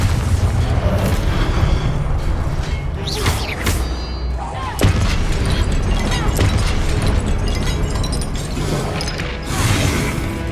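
Booming blasts from the Confringo explosion spell in a Harry Potter video game go off repeatedly over a dense, continuous mix of crashes, thuds and mechanical clatter, loud and close throughout.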